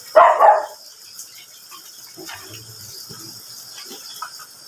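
One sharp, loud dog bark right at the start, followed by a quiet outdoor background with faint, scattered sounds.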